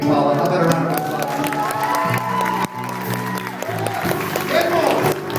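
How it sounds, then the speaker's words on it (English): Audience applause and cheering after a poem reading at a live performance, a dense, steady wash of clapping mixed with sustained musical tones, all close and fairly loud. "How about a round of applause?"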